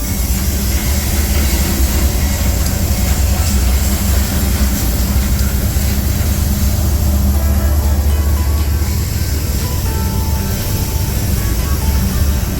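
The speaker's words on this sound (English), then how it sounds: "Looks like our grain train's gonna be stopping here" A Union Pacific grain train of hoppers and tank cars rumbles along as it slows to a stop, a steady loud low engine and rail drone with a faint squeal, near and without talk.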